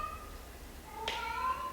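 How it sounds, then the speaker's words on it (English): A house cat named Amy gives a single short meow, clear and fairly close, during a quiet home yoga session, with faint room hiss and no talk. "That's the other cat, Amy."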